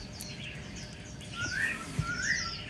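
Songbirds kept for sale and fighting competitions give a few short, bright chirps over steady background noise.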